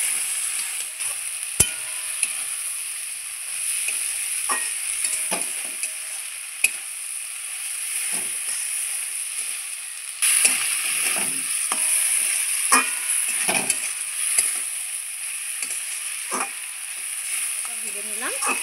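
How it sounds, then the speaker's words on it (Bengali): Flat beans and potatoes frying in a pan, a continuous close sizzle broken by scraping stirring strokes and occasional clinks of the utensil, growing busier partway through. "দিয়ে এটারও ভালোভাবে আমি ভেজে নেব।"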